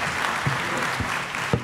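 Applause at a funding forum as a panel session ends, a steady wash of clapping from the audience lasting under two seconds, with a few sharper claps standing out near the end.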